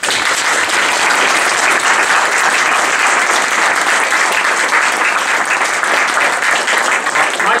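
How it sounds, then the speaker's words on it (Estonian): An audience gives a loud, dense, sustained round of applause for the speakers at an event, the clapping unbroken and even from start to finish. "eriti suur aplaus tänastele esinejatele."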